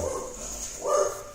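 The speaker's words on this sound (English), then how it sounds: "Dogs are riled up about something." Dogs barking somewhere nearby, a short muffled burst of barks and yips heard at moderate level with no talk over it.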